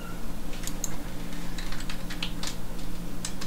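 Typing on a computer keyboard at a Kali Linux command line, a close run of light, irregular key clicks over a steady background hum.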